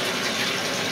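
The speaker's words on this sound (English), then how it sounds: "All right, we're running the water." Tap water runs into a bathtub as a steady, loud, close rush with no break for the whole short stretch.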